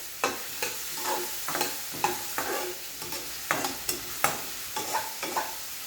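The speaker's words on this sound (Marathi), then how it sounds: "मीठ टाकून आपल्याला हलवून घ्यायचं." Onions with salt are stirred in a frying pan for pohe, with a soft sizzle under regular scraping strokes of a spatula, about two per second, heard close up.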